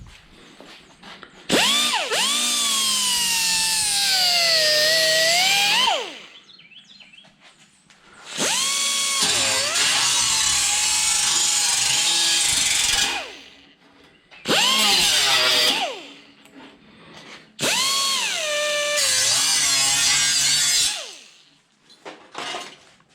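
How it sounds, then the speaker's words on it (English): A power sander whirs up and down in four separate runs, pitch rising and falling as it is pressed against a part during a Cobra Jet engine rebuild, with quiet gaps between runs. "my sander"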